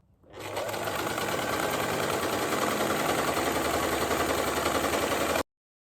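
A sewing machine stitches French seams on bed sheets, running as a steady, close, continuous mechanical whir for about five seconds before it cuts off abruptly.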